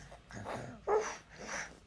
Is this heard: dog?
yes